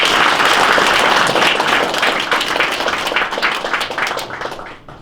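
Applause from an audience welcoming a presidential candidate at a retired police officers' association in Korea, loud dense clapping that gradually tapers off toward the end.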